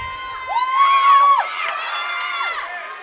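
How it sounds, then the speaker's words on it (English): Fans at a girls' high school water polo match cheer loudly, a burst of high-pitched shouting and whooping voices that swells and then continues in an excited crowd roar. "And here the fans are starting up cheering here."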